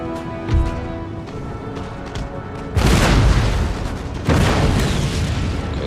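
Cannon and musket volleys in Total War: Empire, a Russian campaign battle against Venice: a distant thud, then two heavy booming salvos with rolling rumble and crackle, loud and close.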